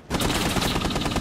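Rapid automatic gunfire in the video game Rainbow Six Siege, a loud, dense burst of shots firing in quick succession with no pauses.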